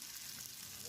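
Tteokbokki being stirred through sauce in a hot pan, giving a brief steady sizzle and hiss with no voices.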